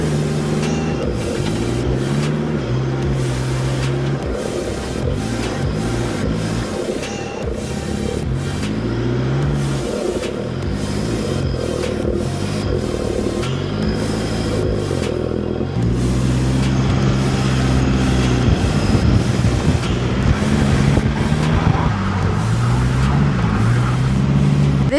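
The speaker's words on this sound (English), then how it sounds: "Now just cruising along, left camp and we're on the beach." A 4WD drives along a sand beach on Fraser Island, its engine droning steadily with gear changes shifting the pitch, close and continuous under cabin rumble, no talking.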